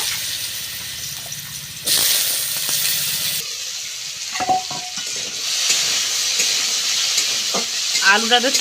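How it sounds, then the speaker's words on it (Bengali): Potato pieces fry in white oil in a wok with a loud, hissing sizzle that surges partway through, broken by scraping stirs and a few clinks, with no talking. "সাদা তেল দিয়ে আলুটা ভাজবো"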